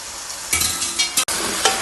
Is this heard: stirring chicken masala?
yes